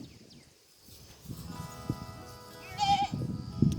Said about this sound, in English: We got them from a local farm that raises Dorper hair sheep and Hampshire wool sheep